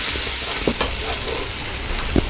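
Ground tomato, onion and garlic paste hitting hot oil for tomato chutney, a constant close sizzle and hiss with a few faint stirring knocks.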